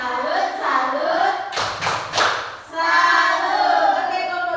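A first-grade class claps a short rhythmic 'tepuk salut' cheer for group 2, a few sharp clustered claps in the middle, with children's chanting voices before and after.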